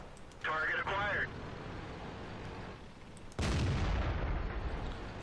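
A tank cannon fires in World of Tanks gameplay, a sudden loud booming blast with a rumbling tail, after a short electronic crew voice cue and a stretch of low background hum.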